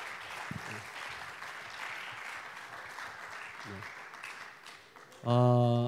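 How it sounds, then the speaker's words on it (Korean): Applause from an audience at a church pastors' conference greets panelists taking the stage, a moderate, steady patter of clapping that runs for several seconds before a louder, sudden sound cuts in at the end. "우리 패널들로 나오신 분들 박수로 맞이하겠습니다"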